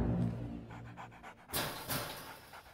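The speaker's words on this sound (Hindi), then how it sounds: "ये तो कुत्ता है।" A dog pants rapidly and close up for about a second and a half, a quick rhythmic huffing, followed by a couple of louder breathy bursts or shuffles.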